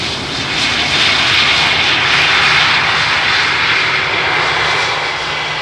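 An airliner arriving on runway 18R, the Polderbaan, at Amsterdam Schiphol roars loudly and steadily, a broad close engine rush that swells slightly and holds for the whole stretch with no voices.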